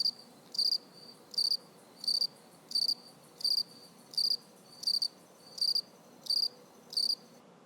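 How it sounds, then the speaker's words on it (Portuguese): A cricket chirps in ten evenly spaced bursts, each a short shrill trill, over a steady low hiss of outdoor background noise. "Tenho cerca de 7 segundos de um grilo e um pouco de ruído de fundo"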